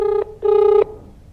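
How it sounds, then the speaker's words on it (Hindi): Ringback tone on an outgoing phone call to a government office in Ranchi, made up of two close, loud electronic buzzing bursts, a short one and then a longer one, followed by quiet line noise. "सुनिए, रिंग हो रहा है।"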